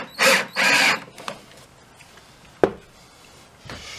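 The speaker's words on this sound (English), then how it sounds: "So I'm going to screw this down and get this anchored" A screw is driven into a guitar body to attach the neck, heard as two close, loud whirring bursts from a powered driver, then faint rattling, a sharp knock and a short quieter buzz.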